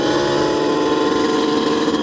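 A Yamaha Banshee supermoto's two-stroke engine drones loud and steady at close range, a dense continuous buzz lasting about two seconds with no pauses.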